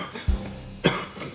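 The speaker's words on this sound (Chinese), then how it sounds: "咳嗽的这么厉害，别到时候引起肺炎了" A person coughing badly, two sharp, close coughs about half a second apart, with quiet room tone between them.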